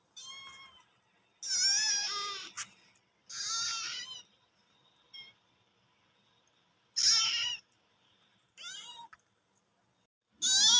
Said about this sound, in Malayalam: ഈ പൂച്ചക്കുഞ്ഞിന് എന്താ പറ്റിയെന്നറിയില്ല.